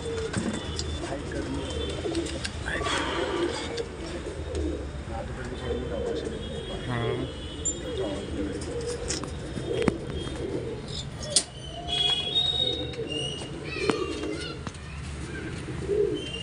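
A pair of pigeons coo repeatedly at close range, low soft warbling calls mixed with some chirps and a few rustles, with people talking quietly now and then in Hindi-Punjabi in Delhi.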